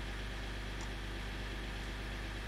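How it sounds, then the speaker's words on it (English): A Dodge Ram pickup truck engine idles, sitting at operating temperature while a clogged exhaust particulate filter is being checked, producing a steady low, even drone with no changes in pace. "we're gonna let the engine idle a little longer so it can reach operating"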